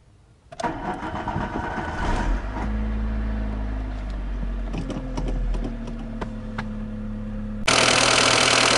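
A car engine with a single-point fuel injection system, faulty with black smoke and high fuel use, cranks and catches, then settles into a steady idle; near the end the engine noise suddenly gets louder and brighter.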